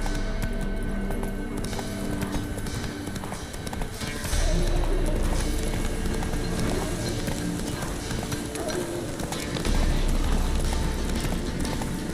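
Roach the horse trotting in The Witcher 3, a steady run of hoof clip-clops under a loud, busy game soundscape, with a voice speaking briefly over it.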